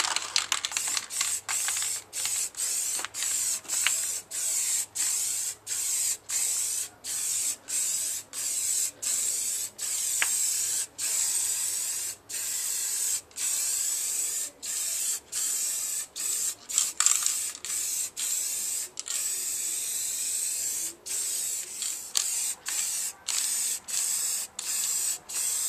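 An aerosol can spraying a second coat of matt paint in a garage, giving long steady hissing bursts broken by many brief pauses, loud and close throughout.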